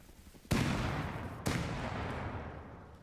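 Two sharp gunshot-like blasts in the survival video game Rust, about a second apart, each loud with a long rumbling decay, with no voices.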